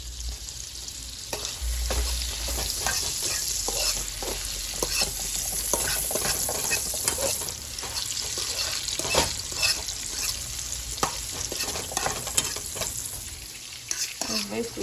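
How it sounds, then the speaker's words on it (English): Meatballs sauteing in butter and leftover oil in a pan, with a steady crackling sizzle and repeated scraping stir strokes running throughout, close and fairly loud with no talking. "Basically sauteing with some butter and oil, your leftover oil from your meatballs."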